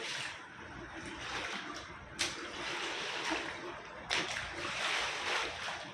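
Water spills and splashes continuously nearby in a steady rushing wash, with a couple of sharper splashes standing out.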